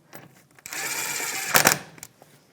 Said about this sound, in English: So hand start it, 13mm socket, and I'm just going to bottom it out